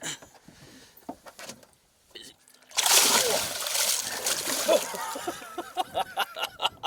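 A barramundi of about 105 cm released at Monduran Dam hits the water with a loud splash and slosh, following quiet speech and faint handling sounds, with people talking over the splashing.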